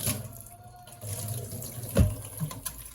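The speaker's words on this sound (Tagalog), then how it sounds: "Ang unang-una kong binabanlawan ay ang mga plato." Tap water runs steadily into a kitchen sink while plates are rinsed, with a soft clatter of dishware near the end; fairly quiet and close, no talk.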